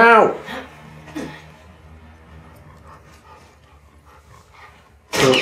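A dog barks in The Last of Us Part II video game, a couple of sharp barks at the start and one near the end, with quieter game sounds and a voice talking in between.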